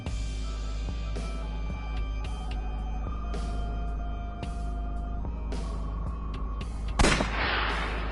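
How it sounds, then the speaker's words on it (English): A single sharp gunshot from the video game AI: The Somnium Files cracks out near the end over a sustained, humming musical background. "I'll try shooting it."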